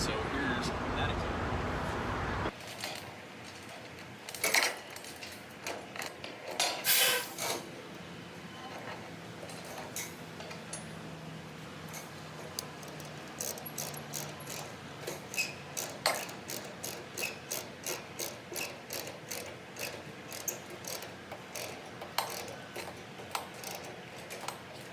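Rapid metallic ratcheting clicks from a ratchet-style chain binder being tightened, starting irregularly and settling into a steady tick-tick rhythm, with occasional clanks and some background talk.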